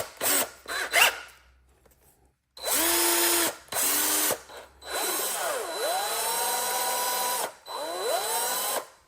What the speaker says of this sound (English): Let me go ahead and use my drill